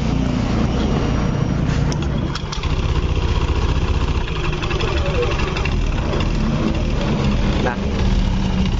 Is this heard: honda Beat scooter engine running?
yes